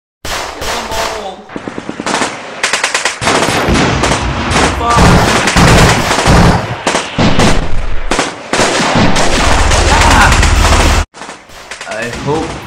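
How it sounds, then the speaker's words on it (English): Battle from the Army Men: Battle for the Backyard video game, with loud, dense machine-gun bursts, gunshots and booming blasts almost continuously, while voices talk over the firing. "We must just start shooting at them straight away."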